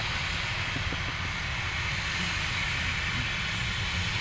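A Ryanair jet takes off at Dublin Airport in murky weather, its engines making a loud, steady broadband roar that fills the whole stretch without a break.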